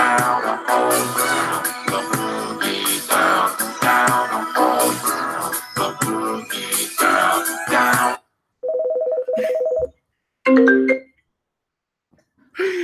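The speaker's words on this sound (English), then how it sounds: "I'm getting phone calls during the show." A telephone rings during a live podcast show. Loud music gives way to a few short, clear electronic ringtone bursts separated by silence.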